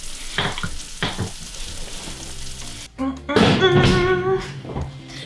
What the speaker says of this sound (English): you can hear the cheese sizzle